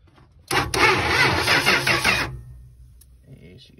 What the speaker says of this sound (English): I'm cranking on her and cranking on her, and she didn't want to start